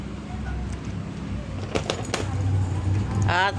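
Keys jangling briefly near the end, close by, after a quiet stretch with a few soft knocks and handling noises, and a voice speaks over the last moment.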